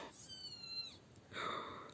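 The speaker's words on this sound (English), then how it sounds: "Do you hear the baby? That's a baby kitty." A baby kitten gives two thin, high meows, the first drawn out and the second fuller, faint against low room noise.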